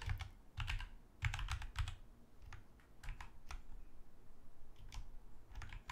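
Keys clatter on a Z80 computer keyboard in short bursts of quick typing separated by brief pauses, close and fairly quiet with no talking.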